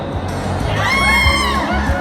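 Crowd of children and adults shouting and cheering at a mini basketball game during a festival in Harajuku, a loud sustained roar of voices with whoops rising throughout.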